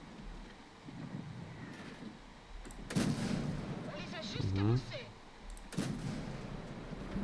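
Artillery fire in a tank video game with an M4A1 FL10 tank, two heavy booming blasts over a windy rumbling background with a brief whooshing shell sound between them.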